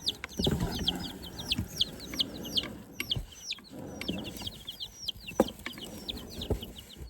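Chickens cluck repeatedly in a garage, a busy close chorus of short calls with occasional louder squawks over some knocking and shuffling.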